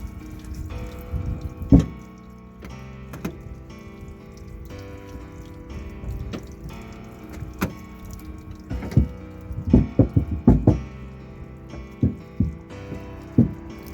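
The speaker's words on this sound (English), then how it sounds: "I'm gonna pour some hot water." Hot water pours and splashes onto a dented Renault Clio body panel, with irregular sloshes, drips and louder bursts near by, some clustered in a row and some separated by quieter stretches.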